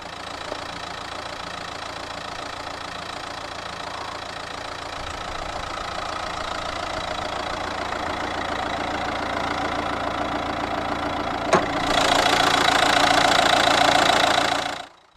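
A 2015 Nissan Juke's 1.5-litre K9K turbo diesel engine idles steadily with a continuous rumble and faint knocking texture, constant throughout, with a brief sharp click near the end before it cuts off.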